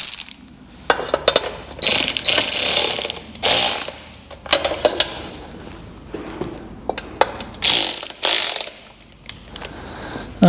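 A ratchet tightening the sump bolts on a Fiat 500 clicks in repeated short bursts, close and fairly loud, with metallic handling noises in the pauses between strokes.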